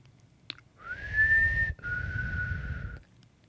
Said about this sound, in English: I heard a whistle.